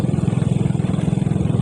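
Motorcycle engine idling or cruising with a fast, even pulsing beat, loud and close, no other sounds over it.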